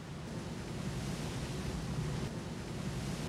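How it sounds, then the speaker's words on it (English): Open-ocean swell and small wind-driven waves around a racing yacht during the Vendee Globe, in a 17 to 21 knot breeze: a steady, dense wash of water and wind rush, continuous and fairly close, with no voices. "A little bit of swell. There's sort of tiny, sort of wind waves."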